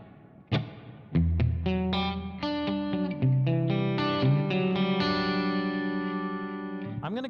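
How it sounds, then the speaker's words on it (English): Electric guitar notes and chords through a reverb effect from a Fractal Audio Axe-Fx III, FM3 or FM9 unit ring out one after another, each trailing into a washy reverb tail, with a sustained final chord fading slowly. "So we're doing reverb real quick."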